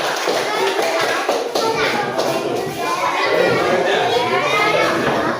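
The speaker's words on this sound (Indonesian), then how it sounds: "Oke, tepuk tangan untuk kelompok 2." Third-grade pupils in a classroom clap for group 2, brisk scattered claps mixed with lively children's chatter throughout.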